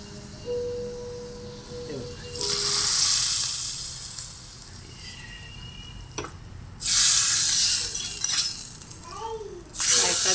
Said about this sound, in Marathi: आता त्याला फोडणी घालणार